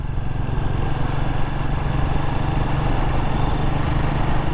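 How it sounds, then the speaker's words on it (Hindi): A Royal Enfield Guerrilla 450 single-cylinder engine lugs at low revs in fifth gear, a loud continuous rough drone with a fast, uneven chugging throb and strong wind rush over the top, steady throughout. "तो अगर मैं इसको रेव कर रहा हूँ तो भयंकर स्टॉल कर रहा है इंजन, गड़गड़ गड़गड़ बहुत आवाज़ आ रही है।"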